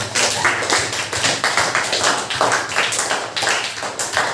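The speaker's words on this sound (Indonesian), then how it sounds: "semuanya tepuk tangan untuk kita semua." A classroom of students applauds together, brisk overlapping claps forming a steady, lively patter that holds evenly for several seconds.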